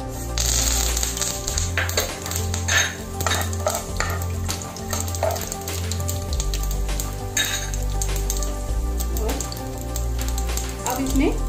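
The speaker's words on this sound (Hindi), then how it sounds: "अब हम ऑयल में डालेंगे राई और कड़ी पत्ते।" Mustard seeds and curry leaves hit hot oil in a pan, giving a busy crackling sizzle with scattered pops and clinks, steady and close throughout.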